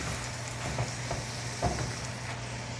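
Bolognese sauce with parsley simmers and sizzles in a frying pan as a spoon stirs it. Soft scraping and gentle bubbling continue steadily under a low background hum.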